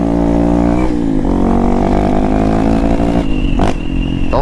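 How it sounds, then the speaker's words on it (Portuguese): Motorcycle with an unfiltered Dore exhaust revving loudly up close, its raw engine note climbing, dropping briefly with gear changes and pulling again, with no talk over it. "Então tamo aí, ó, metendo marcha, Dorizão no procedimento, do jeito que vocês queriam"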